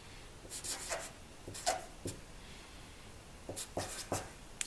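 A number is written on a board during a lesson, heard as a few short scratchy strokes in scattered bursts over a quiet background.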